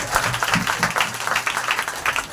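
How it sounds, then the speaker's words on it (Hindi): A church congregation claps loudly in praise, a dense, steady wash of many hands that continues without break, with faint voices mixed in. "हालेलुया, जोर से ताली बजाओ परमेश्वर की।"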